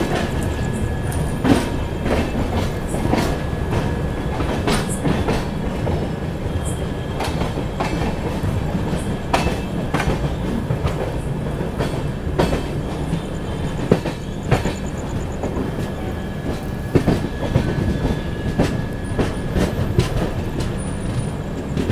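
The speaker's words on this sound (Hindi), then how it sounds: "यहाँ हमारी ट्रेन अपने निर्धारित समय से वृद्धाचलम जंक्शन से चल रही है" An Indian passenger train running out of Vriddhachalam Junction produces a loud, steady rumble with repeated clickety-clack of wheels over rail joints, heard from inside the carriage.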